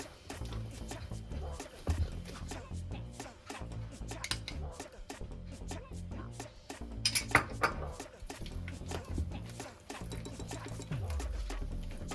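Pineapple kesari is stirred with ghee in a pan, a spoon scraping and clinking against the metal in a quick, busy rhythm. The clatter sounds close and continuous, with quieter spoken voices in the background.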